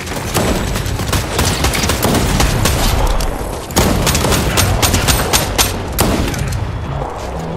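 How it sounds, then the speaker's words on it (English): Dense, loud gunfire from the Fortnite battle royale game, with rapid overlapping shots and bursts sustained across the whole stretch and a brief dip in the middle. No one speaks over it. "I'm getting shot at!"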